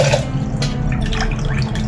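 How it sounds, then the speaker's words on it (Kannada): Water poured into a rice pot on a gas stove for masala rice, loud close splashing and dripping in an uneven run of gushes. "2 ಬಟ್ಲು ಅಕ್ಕಿ, 4 ಬಟ್ಲು ನೀರು ಹಾಕಬೇಕು. ಇದರಿಂದ 4 ಬಟ್ಲು ನೀರು ಹಾಕೋಣ"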